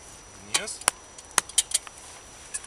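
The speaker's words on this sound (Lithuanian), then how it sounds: "Uždengiame dangčiu." Lid set onto a Trangia camping pot, a few sharp metallic clinks and taps spread over a couple of seconds, close and distinct against quiet surroundings.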